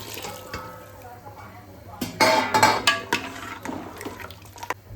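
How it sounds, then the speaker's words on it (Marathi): Hot water poured into a pot of mutton gravy, splashing and gurgling loudly in a short burst after a quieter start, with clinks of the pot and a steady low background hum. "पाणी गरम झाले, आता याच्यात आपण ओतूया।"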